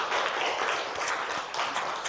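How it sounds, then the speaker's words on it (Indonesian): Classroom applause for a student debate group, a modest round of clapping from a class, steady and somewhat distant, fairly quiet and without talk. "Oke, tepuk tangan untuk kelompok 1."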